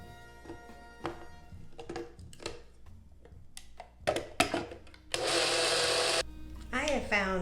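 An electric spice grinder blending Creole seasoning whirs loudly for about a second after scattered taps and clatter as the container is handled, with a voice talking before and after.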